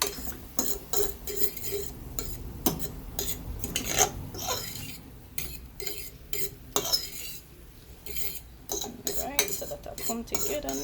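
A metal spoon clanks and scrapes against a pot while seasoned meat for a Jamaican-style beef lasagna is stirred, with irregular clinks and knocks from start to finish.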